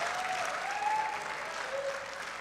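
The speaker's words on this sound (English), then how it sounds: "bigger round of applause" A live audience at the Future Fest 2024 stage event applauds steadily for about two and a half seconds, a dense wash of clapping with faint whoops and cheers rising over it.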